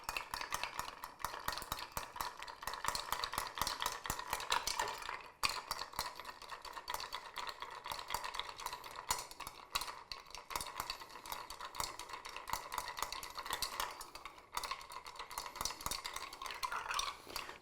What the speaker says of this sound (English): And we're going to stir it down.